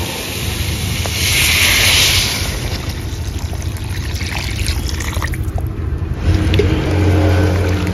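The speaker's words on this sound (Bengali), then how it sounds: "এবার পরিমাণ মতো জল দিয়ে দেব।" Water poured into a pan of fried spiced potatoes, a loud rushing splash that swells early, then settles into a sustained hissing simmer.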